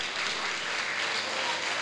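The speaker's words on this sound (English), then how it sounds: "Another round of applause for the cast" Dense, steady applause from an audience at a Concordian High School musical, Where the Wild Things Are, cheering the cast; the clapping holds at an even level throughout the short stretch, with no voices heard.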